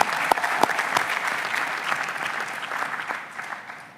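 Applause from an assembly audience thanking the volunteers, a dense steady patter of many hands clapping at moderate distance, with a few sharper claps standing out early before the sound gradually thins and fades.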